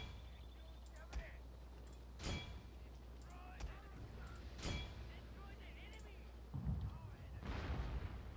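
Cannon artillery fire in the battle game Total War Shogun 2: several sharp booms at irregular intervals over a steady rumble of battlefield noise.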